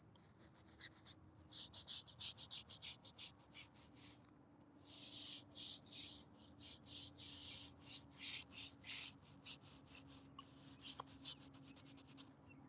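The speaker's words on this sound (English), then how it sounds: "This is the first time I'm using this brush this year." A brush scrubs a gravestone during gentle cemetery restoration, giving close, repeated rhythmic swishing strokes in bursts, some quick and choppy, others longer, over a quiet outdoor background.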